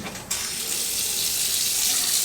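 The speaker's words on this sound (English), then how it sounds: "Okay, turning the water on." Bathroom sink faucet switched on, a quiet start that jumps into a loud, steady hiss of running water close by, with no one talking.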